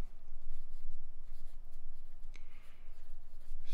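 Transparent Kaweco Perkeo fountain pen writing on Oxford Optik paper, a faint close scratching in quick repeated strokes with a soft rhythmic rasp throughout.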